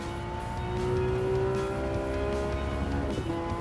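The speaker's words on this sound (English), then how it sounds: "And listen to this engine roar." A Porsche 911 GT3 engine in Gran Turismo 7, played in VR: a steady, close engine drone with tonal harmonics that climb as the revs rise, then shift abruptly near the end.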